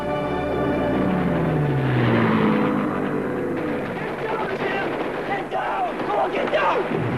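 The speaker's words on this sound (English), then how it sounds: "the air raid piece. Where the Cadillacs of the sky come by?" Air raid film scene with P-51 fighter planes: a droning engine sweep rising and passing overhead, then a dense clatter of gunfire and explosions, loud and chaotic throughout.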